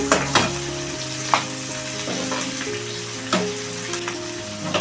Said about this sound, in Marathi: कांदा चांगला मी परतून घेते